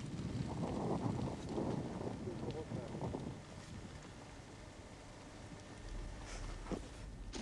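Gusty wind buffets the microphone over open water during fly fishing. Its broad rush is strongest early on and then settles to a lighter, steady breeze.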